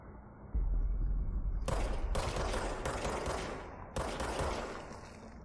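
Bursts of Glock gunfire in a video game crack out loudly in several rapid clusters, with short gaps between volleys over a low background hum.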